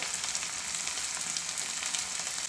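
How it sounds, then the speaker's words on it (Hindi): Onions and spices such as turmeric, red chilli and coriander powder frying for a matar paneer, giving a steady, close, even sizzle throughout with no talk. "मसालों को प्याज के साथ ही भून लेंगे"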